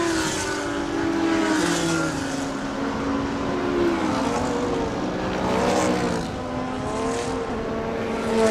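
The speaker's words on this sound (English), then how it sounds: "The engine does sound angry." Race car engine roaring loudly through a qualifying round at a Thailand Super Series circuit, with rising and falling harmonic revs, gear changes and several cars passing close by in a continuous, dense blare.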